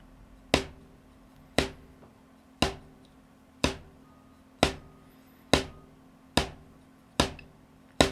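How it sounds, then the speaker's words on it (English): Single sharp drumstick strokes of a double stroke roll ring out at a slow, steady pace, about one per second, with a short decay after each and no speech. "very gradually accelerate to a comfortable top speed"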